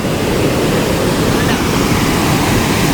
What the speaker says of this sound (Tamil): தண்ணி போற போகத்தை பாருங்கள்